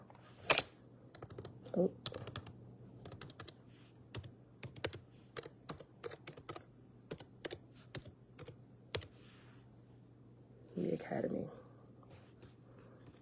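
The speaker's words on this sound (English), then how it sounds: "I'm gonna type it in for y'all." A web address is typed on a computer keyboard in irregular bursts of crisp, close key clicks, with pauses between them and a short spoken exclamation near the end.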